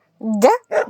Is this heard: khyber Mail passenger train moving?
no